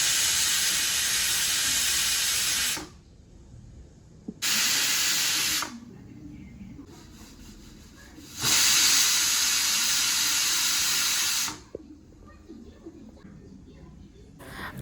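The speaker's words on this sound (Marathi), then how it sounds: "मोठ्या गॅसवर 1 शिट्टी केली आहे आणि छोट्या गॅसवर गॅस बारीक करून 5 शिट्ट्या केल्या आहेत" A pressure cooker cooking chole on a gas stove releases loud bursts of hissing steam, three long whistling blasts separated by quieter gaps with a soft background hum.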